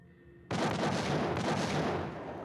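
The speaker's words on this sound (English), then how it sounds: "Just massive amounts of grenade launchers." Grenade launcher explosions in the Max Payne video game hit abruptly after a quiet moment, then roll on as a loud, dense, continuous roar of blasts for about two seconds.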